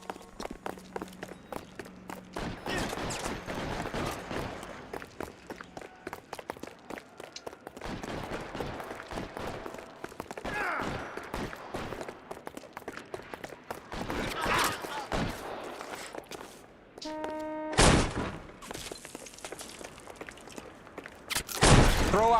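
Gunfire in a shootout in the video game L.A. Noire, with scattered sharp shots and bursts among footsteps and movement, some louder cracks near the end, mostly without talk.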